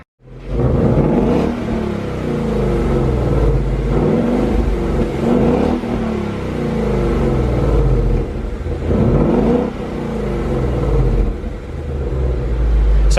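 A stock Honda S2000 engine idles and revs with a low rumbling note, swelling in several repeated throttle blips between steadier stretches, close and loud with no talking.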